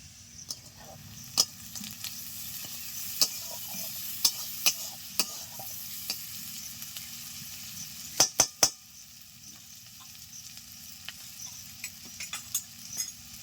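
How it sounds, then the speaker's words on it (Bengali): A soft, steady sizzle of onions frying in a pan with salt and a little turmeric, broken by several sharp clinks and scrapes of a utensil stirring against metal. "পেঁয়াজ ভাজা ভাজা হয়ে গেছে"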